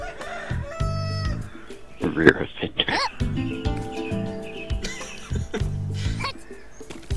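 Chickens cluck and a rooster crows in the Worms video game, the bird calls coming in short bursts over game effects while a voice talks over them.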